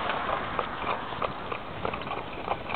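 Steady clip-clop of horse hooves trotting on a hard road, a regular rhythm over constant background rumble.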